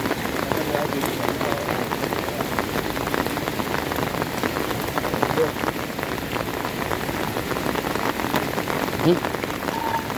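Heavy rain pours steadily in a dense, continuous hiss of drops hitting surfaces, loud and unbroken throughout.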